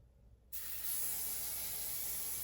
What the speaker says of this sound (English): this is my Ebin spray, and I'm going in with it.